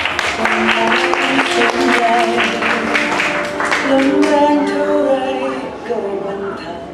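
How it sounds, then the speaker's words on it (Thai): An audience at a school speaking and personality event claps in a dense, sustained round of applause, loud and close, with musical tones ringing through it and a voice talking over the clapping before it fades toward the end. "ขอเสียงปรบมือให้กับหมอนอิงค่ะคนแรก"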